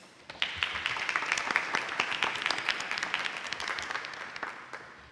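Audience applause at a school board meeting honoring an education award winner: a modest room of people clapping, individual claps audible, rising quickly then gradually thinning over about five seconds at a fairly soft level.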